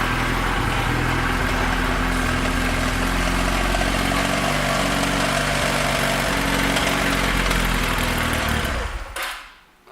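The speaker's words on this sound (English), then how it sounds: "That's my lift you hear rattling." A 2001 Honda Rebel 250 motorcycle idles loudly and steadily on a lift that rattles beneath it, until the engine cuts out near the end, leaving quiet.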